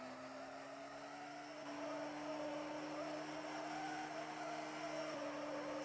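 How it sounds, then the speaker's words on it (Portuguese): A VW Gol doing a tire burnout in a racing game, with a steady, loud tire squeal over a high, droning engine note that holds through the whole stretch. "Dá uma atenção no borrachão que eu vou fazer com o gol"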